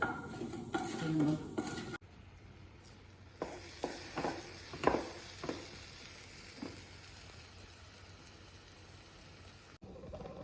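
Dry urad dal is stirred while roasting in a pan, with a spoon scraping and clinking several times over a faint sizzle, and a brief murmur of voice at the start.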